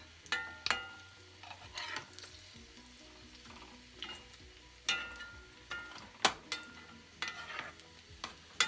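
Jack mackerel fries in a pan with a soft, constant sizzle, broken by repeated sharp scraping and pressing bursts as the fish is smashed down with a utensil, close and alone.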